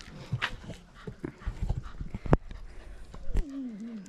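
A street dog close by on a countryside walk around Jericó, Colombia, gives short barks and whimpers, then a rising and falling whine, over light outdoor background noise.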